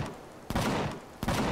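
Two bursts of rapid automatic fire from a minigun in the space survival game Empyrion Galactic Survival, each a loud sudden crackle that trails off, with no talk.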